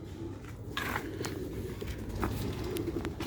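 Young pigeons in a loft coo softly and continuously, with light scuffling and a few faint clicks in the background.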